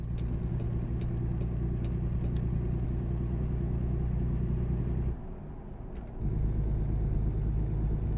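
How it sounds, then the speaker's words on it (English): A truck engine in American Truck Simulator gives a steady, loud, low rumble with a deep idle drone that briefly dips, then returns to the same heavy shaking hum. "This truck is a shaking."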